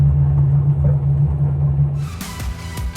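A brakeless hovercraft drives through Quebec streets in third gear. Its engine drones loud and steady, then breaks into a harsh, gusty rush of noise with sharp bursts.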